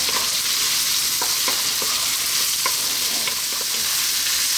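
Thinly cut carrots and celery stir-frying over high heat, producing a loud continuous sizzle with scattered clacks from tossing and stirring, no voices.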